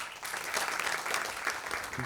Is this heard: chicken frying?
no